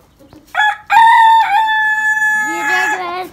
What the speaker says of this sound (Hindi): अल्हम्दुलिल्लाह ये दोनों मुर्गे भी फुल तैयार हैं